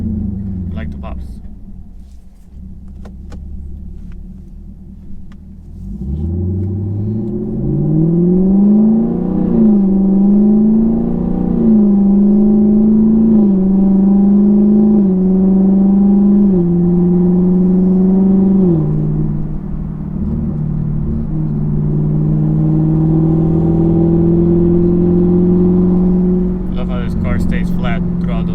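A 2021 Camaro SS 1LE engine with a cat delete and MBRP exhaust revs up and holds a rising, wavering roar, with a few sharp exhaust pops near the start and end.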